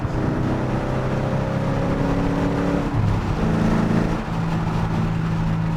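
A Ford car's engine revs hard after a downshift on an on-ramp, a steady loud drone whose pitch climbs, dips briefly near the three-second mark, then climbs again.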